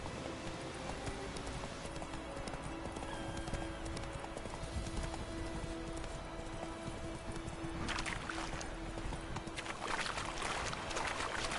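Clip-clop hooves of a horse galloping in The Witcher video game, steady rhythmic beats throughout with a brief whinny and some game ambience, no speech.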